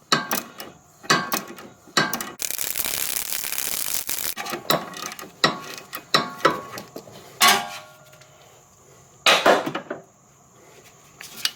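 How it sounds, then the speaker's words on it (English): Nuts and bolts being removed from a Nissan Maxima lower control arm: scattered metallic clanks, ratchet clicks and wrench rattles in irregular bursts, with a longer scraping stretch partway through, close up and alone. "Once I remove these nuts and bolts,"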